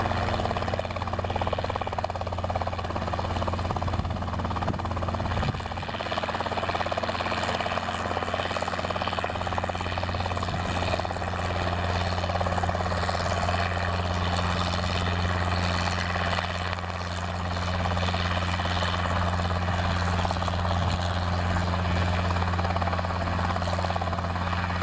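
A helicopter's steady rotor thrum and engine whine fill the whole stretch, loud and continuous with slight wavering, as if hovering fairly close by.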